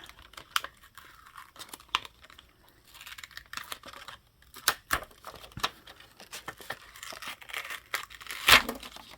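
Tight, long-applied plastic wrapping being peeled and torn off an old book, heard as scattered close crackles and crinkles with brief ripping bursts and one sharp louder tear near the end.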